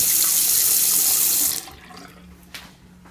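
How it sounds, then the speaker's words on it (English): A hotel bathroom tap runs with a strong, steady hiss of water for about a second and a half, then shuts off, leaving a quiet room with a faint clunk. "hot and cold running water"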